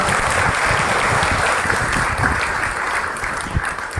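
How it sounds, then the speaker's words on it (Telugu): A congregation at a Pentecost Sunday church service claps loudly and steadily, a dense, continuous wash of applause with no pauses. "మనమందరం కూడా దేవుణ్ణి స్తుతిస్తూ ఒక్కసారి గట్టిగా చప్పట్లు కొట్టి దేవుని మహిమపరచుగా"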